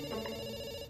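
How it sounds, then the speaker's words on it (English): A telephone rings once in a short, steady electronic trill heard at moderate volume. "we pick up the phone because it's ringing"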